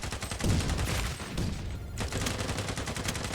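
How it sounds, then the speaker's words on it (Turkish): Glock 19 pistol gunfire in a video game, a continuous volley of shots rattling out loud and close, with only a brief lull before the firing resumes. "Glock 19'u bir aldım gençler."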